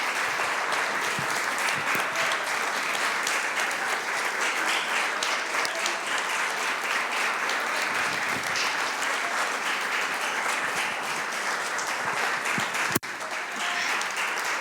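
A worship congregation claps steadily and densely throughout, a continuous wash of applause from many hands with scattered cheers, ending in one sharp loud clap near the end.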